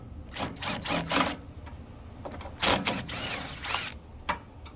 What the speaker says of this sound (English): So just regular 10mm socket.